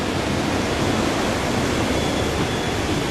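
Creek water rushing steadily through the middle of Fort Creek in Hot Springs Village, a constant, loud, broadband wash with no pauses and no voices.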